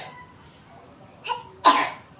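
A child coughs twice, a short cough followed by a louder, harsher burst, close to the microphone in a quiet indoor room.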